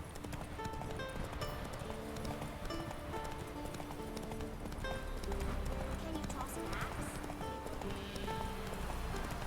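Hooves of Roach, a horse in a video game, clip-clopping at a steady galloping rhythm under a continuous game soundtrack, with light rain-like patter and a person talking over it.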